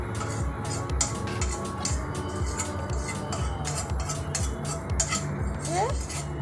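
Butter is spread around a frying pan on a gas stove: a utensil scrapes and clinks against the pan in quick repeated strokes, soft and close, over a low background hiss.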